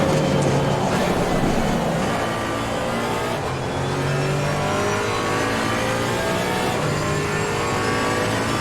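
BMW GT race car engine in Assetto Corsa Competizione, a loud steady high-revving drone holding speed down a straight, with rising harmonic tones from other cars close by in a multi-class race.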